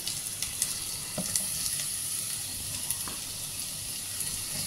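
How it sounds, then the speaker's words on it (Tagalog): Soft simmering and faint sizzling from a pot of soup with zucchini as mushrooms are added, a steady hiss with a few light clinks and stirs. "I-add na natin yung mushroom."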